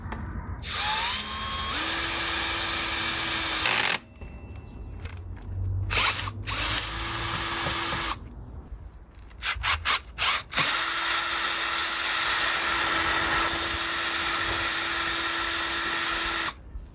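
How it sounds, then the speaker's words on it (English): A power drill bores a hole in a bicycle frame, whining steadily in long loud bursts with brief pauses and stuttering stops between runs. "Let's drill a hole in this perfectly good bike."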